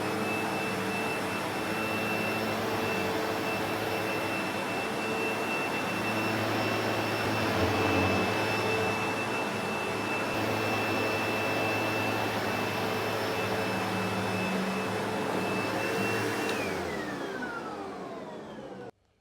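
A Sebo X7 Extra Blue upright vacuum cleaner runs steadily at close range, a loud, constant motor roar with a high whine on top that holds for about sixteen seconds, then drops in pitch as the motor winds down.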